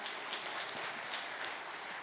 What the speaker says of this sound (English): I'll even take mercy applause